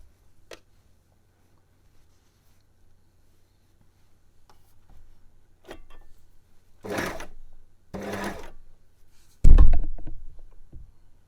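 A sewing machine stitching straps onto a sports bra runs in two short close bursts, preceded by faint ticks and handling noise and followed by a louder thump.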